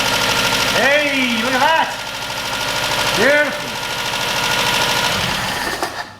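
Freshly swapped Toyota 4K engine in a KE25 Corolla running with a steady, loud, close mechanical idle, while a man exclaims over it.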